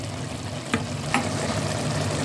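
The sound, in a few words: herbs added to the simmering sauce for stuffed vegetables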